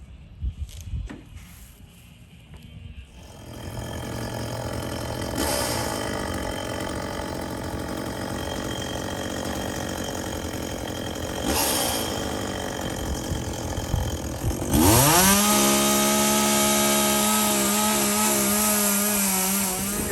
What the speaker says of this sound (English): Going to go ahead and start notching the poles and cutting the poles off there for the boathouse